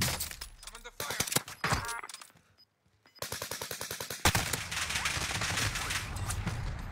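Video game gunfire in a tournament match, rapid bursts of automatic shots and sharp cracks with a brief lull, then dense sustained firing, mixed with a streamer's voice.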